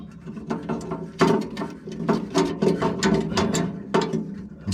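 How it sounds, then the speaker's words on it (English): A wrench works on a fitting of an Enviro gas heater stove whose pilot light won't stay lit, making a series of irregular metallic ratcheting clicks and scrapes close by, in uneven bursts with short pauses. "first I got to make sure I have the right size wrench"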